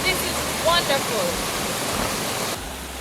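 A big river rushes over very large rocks in the Jamaican countryside at Smithville, Clarendon, a steady broadband roar of flowing water with brief voices heard faintly over it.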